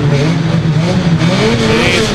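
A race car at the Eastbourne BWS 2023 meeting spinning on the track, a loud, steady engine roar with a brief high squeal of tires near the end.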